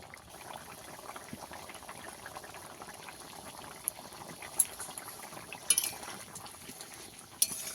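A vegetarian broccoli curry simmering in a pan, giving a quiet, steady bubbling with a few sharp utensil clinks near the end.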